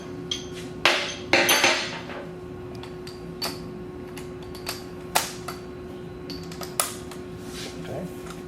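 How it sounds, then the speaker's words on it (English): Pneumatic air tools on rear subframe bolts of a MINI Cooper during a rear sway bar install, sharp irregular rattling bursts and taps over a steady shop hum, loudest early then scattered. "obviously we're going to use the air tools again for time's sake"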